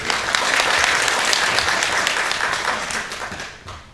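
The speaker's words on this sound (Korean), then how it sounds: "힘찬 박수로 맞이해 주시기 바랍니다" Loud, dense clapping from an assembled crowd at a memorial ceremony welcoming a speaker to the stage, close and full before tapering off near the end.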